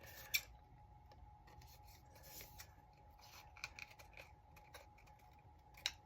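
Scissors snip through vintage film strips in a quiet room, a few sharp cuts and rubbing slides spaced out over a faint steady hum, with no one talking.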